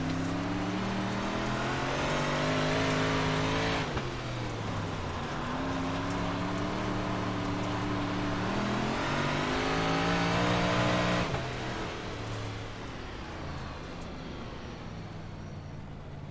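Race car engines drone and rev through a final lap, sustained tonal whines rising and falling with gear changes, steady and fairly loud, easing off toward the end.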